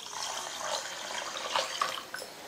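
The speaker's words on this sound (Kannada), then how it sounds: "ಈಗ ನೀರು ಹಾಕಿ ನೆನೆಯಾಕಿಡ್ತೀನಿ ನೋಡ್ರಿ." Water is poured from a tap onto washed rice set to soak for onion sandige, a continuous moderate splashing and trickling stream close by, with no talking.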